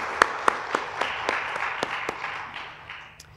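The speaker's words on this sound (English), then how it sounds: "So please, a round of applause for the Canadian Embassy." Applause from an audience at a Canada–Ethiopia women-in-trade panel event, a thin scatter of individual claps at first that thickens briefly and then fades out, moderately distant.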